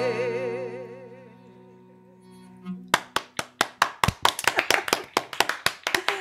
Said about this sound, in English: there's thousands of people giving massive applause